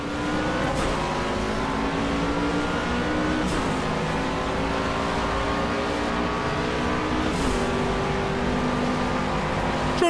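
Toyota GT86 Rocket Bunny race car engine in Project CARS at Dubai, a steady loud drone with harmonic pitch sweeps as gears change, dropping and climbing around a missed shift, continuous throughout.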